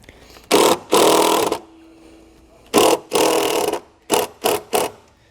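A power driver sinks a self-tapping screw into a vehicle's metal body to ground a wire, giving two long whirring bursts, a pause, two more long bursts and then three short closing pulses, all close up.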